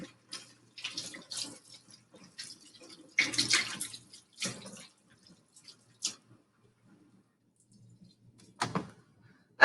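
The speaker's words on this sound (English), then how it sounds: "when you wash your hands, you want to do it for about 30 seconds with warm water and soap." Hands washed with warm water and soap at a home kitchen sink: running water comes in intermittent close splashing bursts separated by quiet pauses, with no talking.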